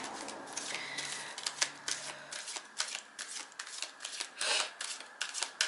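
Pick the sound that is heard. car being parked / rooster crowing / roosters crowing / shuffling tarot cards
shuffling tarot cards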